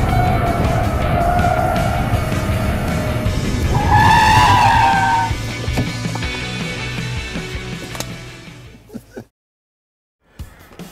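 A Mazda CX-5 family car driven hard around a race track by a rally champion, tires squealing loudly through a turn with engine roar, then fading to silence before a brief return.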